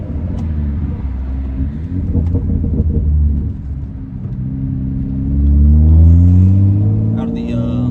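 A modified full-bolt-on 2015 BMW 335i in Sport Plus mode rumbles loudly from the cabin, its engine note climbing in pitch as it accelerates and peaking near the end.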